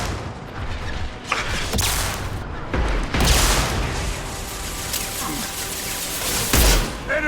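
Mass Effect combat: a concussive shot and gunfire, with booming blasts and rapid crackling shots, loud and dense throughout, over a busy battle backdrop.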